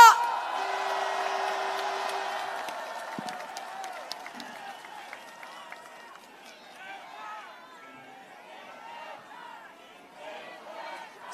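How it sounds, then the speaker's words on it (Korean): Crowd applause and cheering at an outdoor political rally in Gwanghwamun, Seoul, welcoming a party floor leader; loud clapping and shouts fade gradually into scattered cheers and chatter, with a voice over a loudspeaker early on. "심재철 원내대표 큰 박수로 맞이해 주시기 바랍니다"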